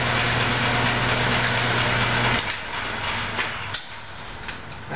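A lathe spins while a lamp is being drilled, giving a steady whirring hum with a low tonal drone that drops out midway, leaving a quieter mechanical rumble and a few small knocks.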